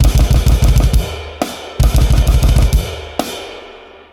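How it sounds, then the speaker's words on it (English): Rapid, machine-gun-like double bass kick drum and cymbal hits in tight unison blast-beat bursts, each run ending in a ringing crash that decays, loud and close. "basically I'm just combining both feet to play double bass and playing my hands in unison"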